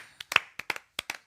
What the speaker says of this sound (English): Get up and clap.